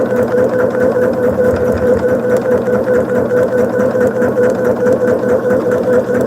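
A sewing machine stitches quilt fabric for a modern sampler block, a loud, steady, rapid mechanical whirring hum running evenly from start to finish with no voices.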